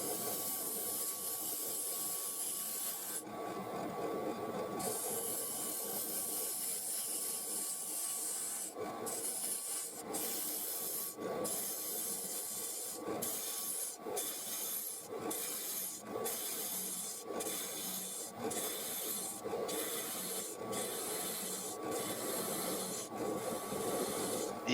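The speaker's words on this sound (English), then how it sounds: "The Easy Wood cutters here making no effort in cutting this at all." An Easy Wood carbide cutter is turning a wooden bowl on a lathe. It gives a continuous, close scraping rasp over the lathe's hum, broken by repeated brief pauses as the tool lifts off, with no talk.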